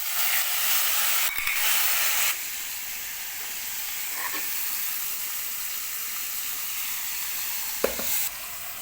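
Ginger-garlic paste, green chilli paste and cumin paste with salt fry steadily in a pan, a dense, even sizzle running throughout with a slightly louder burst at the start and a few faint clicks from stirring.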